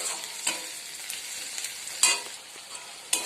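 Onions, tomato and ground spices such as turmeric, cumin, chilli and coriander fry in a pan for rajma, a continuous close sizzle with a few sharp scraping stirs of the spoon.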